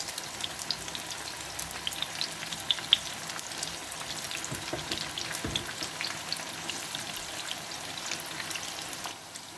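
Mixed pakora batter fries in hot oil in small clumps, giving a steady, close crackling sizzle dotted with tiny pops that runs evenly throughout with no talking.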